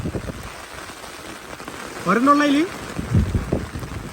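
Heavy rain pours steadily during a fishing outing, a dense, even hiss filling the whole stretch, with a voice speaking briefly over it in the middle.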